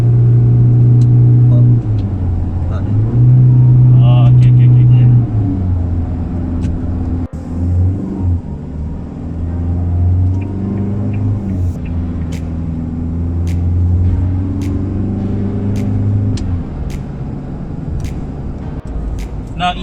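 A 2021 Isuzu D-Max X-Terrain pickup truck driving on the road in Sarawak, Malaysia, its engine giving a steady low drone that shifts pitch through gear changes, heard from inside the cabin.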